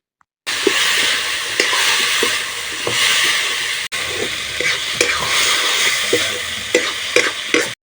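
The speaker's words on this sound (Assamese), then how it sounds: "বিলাহীখিনি গলি যোৱাৰ পিছত ইয়াত আলু মটৰখিনি দি ভালদৰে লৰাই ল'ম" Potatoes and peas stirred into a pan of softened tomatoes for a paneer dish, a steady loud sizzle with regular scraping strokes of the spoon, close by with no talking.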